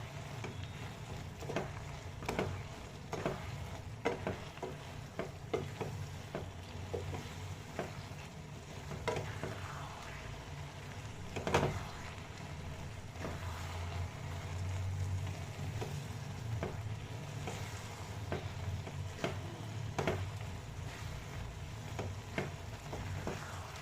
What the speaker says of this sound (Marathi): यामध्ये आता आपण ड्रायफ्रूट्स घालू, जे फ्राय करून घेतले होते. व्यवस्थित मिक्स करूया.